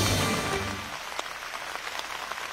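Rain falls on a strawberry farm in La Trinidad, Benguet, a steady soft patter with scattered sharper drops, heavier at the start and then easing, with no one speaking.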